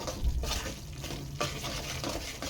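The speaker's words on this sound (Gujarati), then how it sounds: "મીડિયમ ગેસ ઉપર જ શેકવાનું, ચોટે નહીં, અને સતત ચમચો તો ફેરવવા જ રાખવાનો" Urad flour roasts in a pan over medium heat while a spoon stirs it constantly for adadiya, soft scraping strokes repeating over a faint sizzle, quiet and close.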